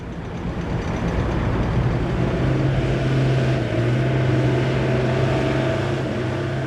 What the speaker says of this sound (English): the first vehicles attempt to make their way through the slippery mud